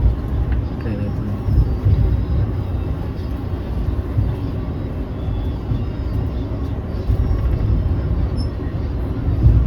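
A Kachiguda-bound train stands on the opposite platform at Nalgonda station, giving a steady, loud, low rumble throughout with a slight swell near the end.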